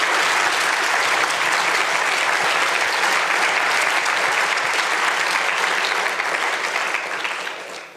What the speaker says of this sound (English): give, before I announce the prizes, everybody a round of applause for that magnificent performance